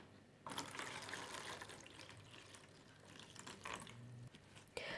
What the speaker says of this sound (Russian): я сейчас вот эту морилку дуб выливаю сюда в лоток, совсем чуть-чуть